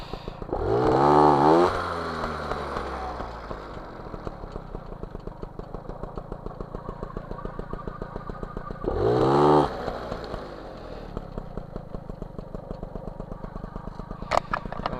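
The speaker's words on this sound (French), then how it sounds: "Alors, le ralenti il est bas." A small MBK 51 Magnum moped engine with a PHBG 15 carburettor idles low with a fast, steady putter. Two short revs rise sharply and fall back to idle, about eight seconds apart.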